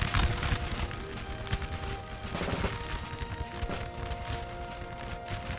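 Musket volleys in the Napoleon Total War battle game with Austrian line infantry, a crackling fusillade of many overlapping shots rolling on continuously, loud and close, with heavier bursts scattered through.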